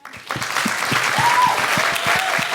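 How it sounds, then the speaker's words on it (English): Audience applause at a live recording of The Guilty Feminist comedy podcast swells quickly and holds as a dense, steady wash of clapping from a crowd, with a voice faintly audible beneath. "Oh, you don't have to clap."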